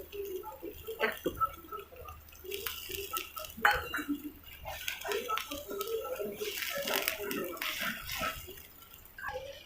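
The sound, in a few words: water being added to fried masala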